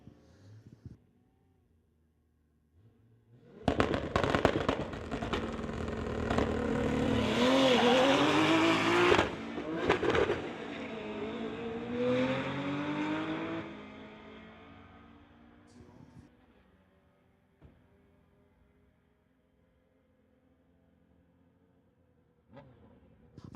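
A 1993 Honda Civic and a 1993 Toyota Supra launch in a drag race, engines roaring loud from near silence, shifting through gears for about ten seconds before the sound fades into the distance; some faint talk around it.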